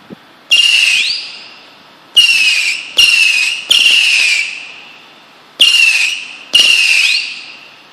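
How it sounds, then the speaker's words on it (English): Six Mars mini firework rockets fired one after another, each a sharp crack followed by a rising shrill whistle that trails off, launched in an irregular rhythm at close range with nobody talking. "Alright, these are 100 little rockets here."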